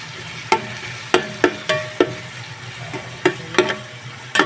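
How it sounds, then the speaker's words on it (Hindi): Onions browning in oil in a pan sizzle softly and steadily, broken by about a dozen sharp clacks and scrapes of a spoon stirring against the pan at an uneven pace, close and fairly loud. "प्याज ब्राउन हो रहे हैं"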